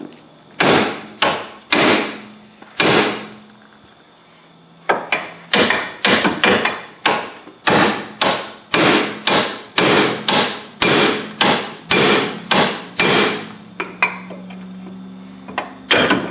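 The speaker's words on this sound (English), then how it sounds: "A lot of times you just whack it right here" A hammer whacks the steering arm around a tie rod end on a Chrysler 300M to pop the tapered joint loose, loud sharp metallic blows struck in quick irregular bursts, with a short pause before the second flurry.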